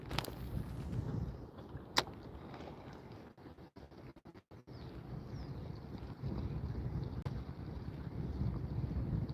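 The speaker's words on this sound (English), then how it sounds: "That wind is freaking blowing now." Wind buffets the microphone outdoors on open water during a bass fishing outing, a steady low rumbling roar with brief gusty dropouts midway and no voices.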